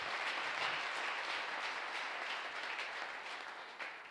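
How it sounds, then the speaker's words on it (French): Congregation applauding in a church, a steady dense wash of many hands clapping that stays loud throughout and fades slightly toward the end, with no voices standing out. "Quelqu'un acclame le Seigneur."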